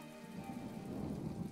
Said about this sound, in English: That was some lightning.